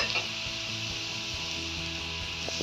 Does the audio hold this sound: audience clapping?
no